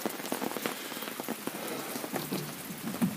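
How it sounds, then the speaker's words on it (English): Steady rain falls in the woods on a mid-August day, a dense patter of drops striking leaves and surfaces close by, with irregular louder splats scattered through the continuous hiss. "It's the middle of August and it's raining."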